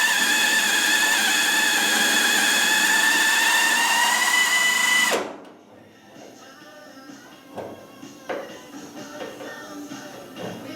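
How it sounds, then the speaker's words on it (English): A loud, steady drill whine runs for about five seconds while drilling plug-weld holes in a classic Mini's floor panel, then cuts off abruptly, leaving quiet shuffling and a few faint clunks. "Basically, I am just drilling some holes that I can plug weld."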